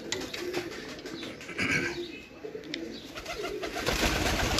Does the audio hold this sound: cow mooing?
no